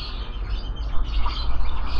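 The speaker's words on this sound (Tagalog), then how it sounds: "Ito yung mga ibon dito." Many birds in an aviary make a dense, continuous wash of chirps and chatter with no single call standing out, loud and close, with no talking.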